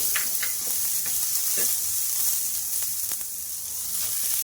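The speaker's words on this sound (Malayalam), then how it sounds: "ഇനി നമുക്ക് ആ നെയ്യിൽ സവോള ഫ്രൈ ചെയ്തെടുക്കാം." Onions frying in ghee for chicken biriyani, a steady close sizzle and crackle running throughout with occasional stirring scrapes, cutting out abruptly at the end.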